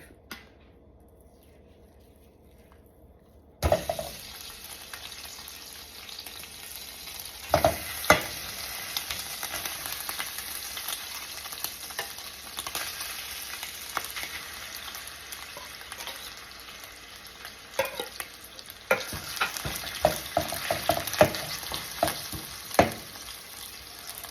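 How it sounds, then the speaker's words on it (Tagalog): Corned beef fries in olive oil in a pan, a steady sizzle starting abruptly after a quiet moment, punctuated by repeated scraping and stirring clatters of a utensil against the pan. "Lulutuin po natin mabuti itong corned beef hanggang mawala na po ang kanyang oil"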